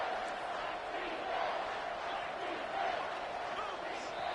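Dense stadium crowd roar in a football video game, a continuous loud wash of cheering and noise with commentary voices mixed in.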